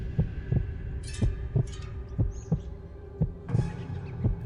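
A slow, steady heartbeat sound effect thuds in regular low pulses, about two beats a second, over a dark humming drone with faint whooshing textures layered on top.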